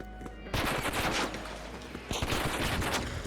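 Wolfpack grenade in ARC Raiders going off as a rapid cluster of blasts, a burst of crackling explosions after a short lull, then a second volley, loud and close.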